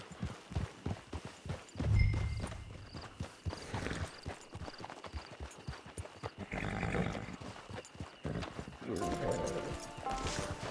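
Horse hooves clip-clop at a steady walking rhythm through a Red Dead Redemption 2 game scene, close and moderately loud, with characters talking over them and brief ambient game sounds.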